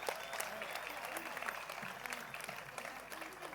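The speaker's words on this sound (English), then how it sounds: "Let's get a huge round of applause for the Chanda, everyone." Applause from the audience at the official inauguration ceremony of India Fest Townsville at Riverway: a dense, faint patter of many hands clapping steadily, heard from a distance with a few voices mixed in.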